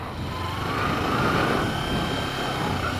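Motorcycle engine on a first-day beginner ride, given a small tap of throttle at slow speed; a steady, continuous engine drone with broadband wind-like rumble that swells slightly mid-way and holds.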